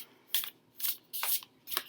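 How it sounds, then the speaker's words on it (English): A tarot deck with thick cardstock being shuffled by hand: four quick, crisp riffling bursts, close and clear, separated by brief pauses. "It has a beautiful shuffle."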